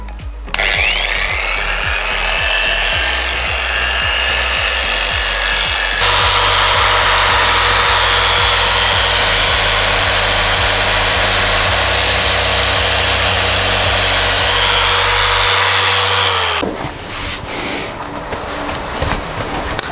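A car polishing machine on its lowest speed setting spreads vanilla cream wax, a combined finishing polish and wax, giving a loud, steady motor whine with a grinding rub that runs continuously, changes tone partway through and then cuts off near the end.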